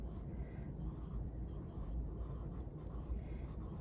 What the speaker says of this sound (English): I'll write that here